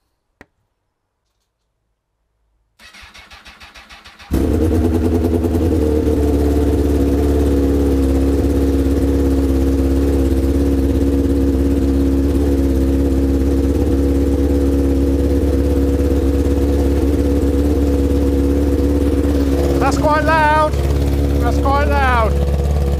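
A brief priming whir, then an overheating Honda Fireblade sport motorcycle engine roars to life in a garage and settles into a loud, steady, throbbing idle close by, running on continuously.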